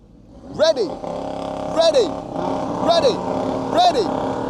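A modified Audi RS3 accelerates hard off the line in a drag race, its engine revving up through four rising, falling sweeps in quick succession, each gear pull loud and close with a rough, roaring exhaust note.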